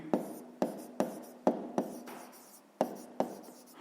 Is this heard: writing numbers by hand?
yes